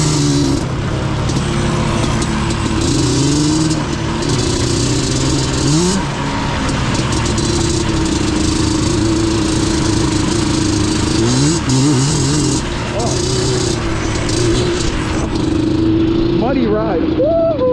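Yamaha Banshee two-stroke ATV on a muddy ride at Mountain Ridge ATV Park: a steady, loud, close engine drone with repeated rises and falls in revs, ending in sharper revving.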